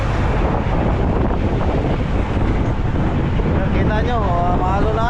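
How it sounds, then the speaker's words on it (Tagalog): Strong wind buffets the microphone over heavy waves and surf at sea aboard a boat, a loud continuous roar with a brief tonal whine near the end. "maalon-alon, lakas ng alon"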